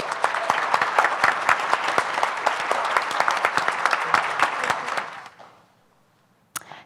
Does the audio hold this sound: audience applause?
yes